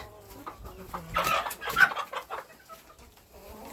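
Broody hens cluck and murmur softly nearby, a low, throaty chatter with a louder burst of squawking in the middle.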